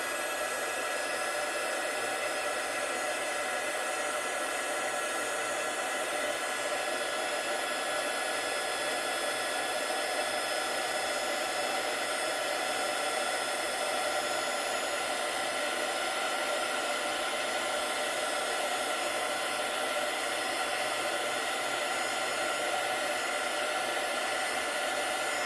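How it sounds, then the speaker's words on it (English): A heat tool blasts hot air onto a craft piece, a loud, unbroken blowing hiss held steady at close range throughout with no talk. "So let's heat it up."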